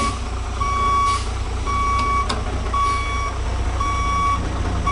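A straight truck reversing toward a cone during a CDL skills test sounds regular, steady backup beeps over a constant engine rumble, several evenly spaced tones across the clip.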